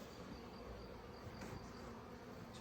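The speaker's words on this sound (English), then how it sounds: "There's quite a bit of bees." Honey bees buzzing around an open hive during an inspection, a soft, steady, continuous drone of many insects with a brief swell near the middle and no talk.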